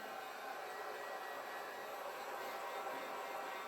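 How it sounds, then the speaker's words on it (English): A steady, even rush of blowing air, like a heat gun running continuously at close range with no pauses. "I pull out my, not a hair dryer, but my heat gun."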